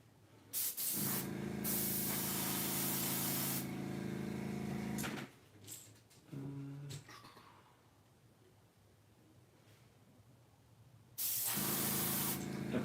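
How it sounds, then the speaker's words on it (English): An air compressor runs for spray painting crankbaits in a home workshop, a loud steady hiss that stops, sputters briefly, then drops to quiet before the hissing run starts again at the end. "Air compressor's making a weird noise."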